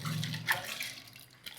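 Water poured into a pressure cooker pan for South Indian sambar, a continuous splashing pour at close range with a brief louder splash partway through, no talking.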